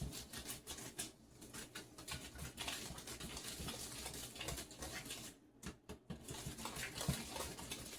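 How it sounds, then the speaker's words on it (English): Cake batter being whisked together in a bowl for a double chocolate cake, a steady close scraping and pattering of the whisk against the bowl that continues throughout with a brief pause near the end. "I am going to whisk everything together here"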